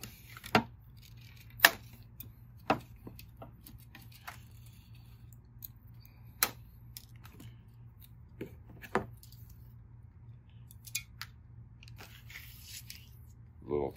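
Scissors snip through small plastic tabs that tie strings to a tennis racket, giving sparse, crisp, quiet cuts at irregular intervals over a low steady hum.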